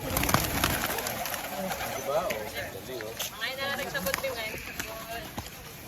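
Pigeons cooing outdoors, soft repeated low coos mixed with wing flutters and ambient noise while people talk nearby.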